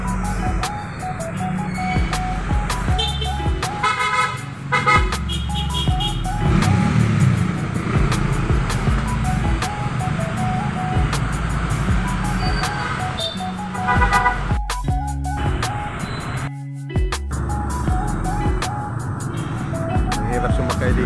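Roadside traffic on a street in Buendia, with vehicles passing steadily and several short car horn toots sounding over the continuous road noise, with people talking nearby.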